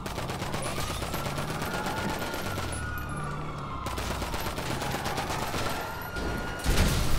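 Gunfire in the game Grand Theft Auto V Online: continuous, dense bursts of shots at steady loudness with a rattling, fusillade-like texture throughout, ending in a louder final blast.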